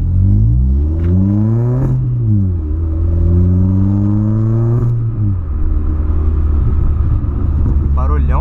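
A Volkswagen Polo with a stainless steel sport exhaust revs repeatedly, deep rumbling rising and falling in pitch in several long pulls, then settling to a throaty idle.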